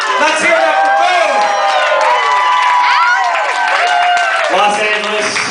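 A Los Angeles crowd erupts into loud, sustained cheering, whooping and clapping for Boon Saleem, with many voices overlapping in a dense, continuous roar throughout.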